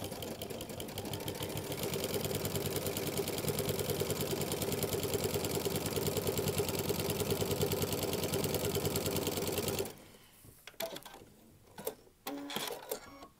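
Sewing machine with a walking foot running a serpentine stitch, a steady fast mechanical whir and needle chatter held loud for about ten seconds, then stopping into a few short bursts and quieter handling noises.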